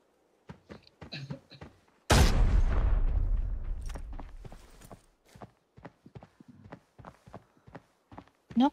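Footsteps in the game Arena Breakout: a steady run of crisp, separate steps, moderately close, broken by one loud boom that rings out and fades before the steps resume.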